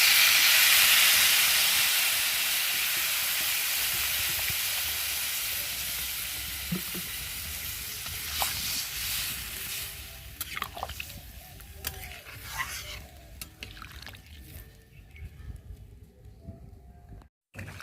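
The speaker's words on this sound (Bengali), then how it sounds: "নেড়ে আর জল দিয়ে দেবো।" Fried masala for a fish curry is stirred in a pan and water is added. A loud steamy sizzle rushes up at first, then fades into a softer hiss broken by scattered scraping and stirring clicks.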